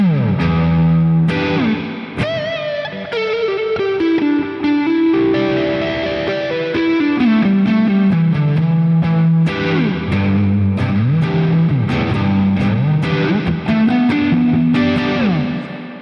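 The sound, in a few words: guitar distortion effect pedal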